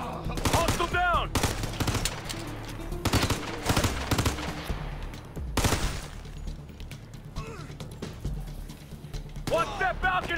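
Rapid bursts of gunfire from the Ghost Recon Future Soldier video game, loud and close, with sharp broadband cracks and sustained automatic fire mixed with short shouted voices.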